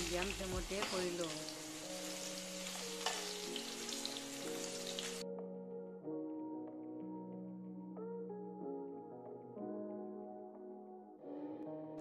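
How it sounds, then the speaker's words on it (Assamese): Potatoes fry in oil over a low-medium flame with a steady, dense sizzling hiss for about five seconds, then the sizzle cuts out and music with sustained tones takes over. "আলুখিনি মোটামুটি মই সিদ্ধ হোৱালৈকে ভাজি থাকিলোঁ"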